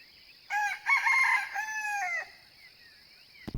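A rooster crows once, a loud, clear cock-a-doodle-doo lasting a couple of seconds against a quiet background, followed by a brief knock.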